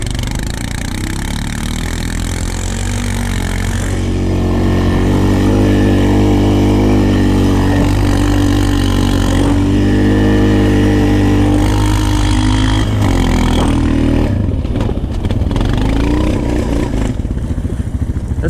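Honda TRX450 ATV engine revving hard while riding through snow, a loud, close, steady throaty drone with shifting pitch, easing and sputtering near the end.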